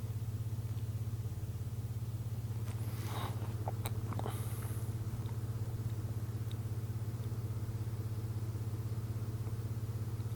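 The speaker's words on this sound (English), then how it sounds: "I left my truck running too" A truck engine left idling produces a steady, continuous low rumble that holds unchanged for the whole stretch, with a few faint clicks and taps above it and no voices.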